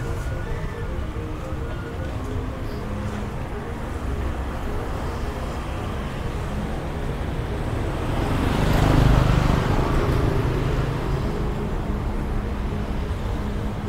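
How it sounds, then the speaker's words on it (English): Steady roar of busy night traffic in Ubud, Bali, with cars and scooters streaming past. The sound is a continuous dense wash that swells as a louder vehicle passes close by. "the road is still very busy. So many cars and scooters coming"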